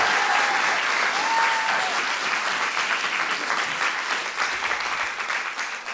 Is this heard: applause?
yes